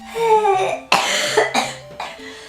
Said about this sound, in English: this is like gonna be a video of me coughing only